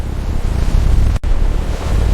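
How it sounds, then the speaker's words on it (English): Heavy ocean surf and wind roar against the giant HMM Algeciras container ship, a loud, continuous wash of crashing water broken by a sudden split-second cut before the roar resumes. "The ocean strikes with unstoppable force."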